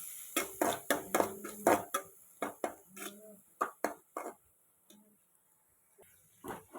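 Spices with salt, ginger and garlic being mixed and fried in a pan: a series of sharp metallic scrapes and clinks of a spoon against the pan in irregular bursts, fairly close, with quieter gaps toward the end.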